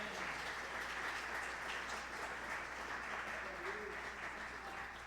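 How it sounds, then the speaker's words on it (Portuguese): Congregation applauding during a church service before a baptism, a continuous wash of many hands clapping, fairly faint and distant, holding steady throughout with murmured voices underneath. "Você pode dar um aplauso ao Senhor pela vida do Márcio?"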